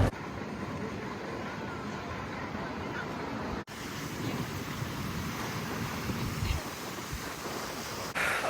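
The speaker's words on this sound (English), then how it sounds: "you can hear how windy it is" Strong wind buffets the microphone by the sea in Madeira, with a continuous roar of ocean waves and surf beneath it, loud and steady with a brief dropout midway.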